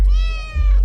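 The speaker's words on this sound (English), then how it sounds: "One of my little pretty cats." A pet cat gives one short, clear, close meow, a little under a second long.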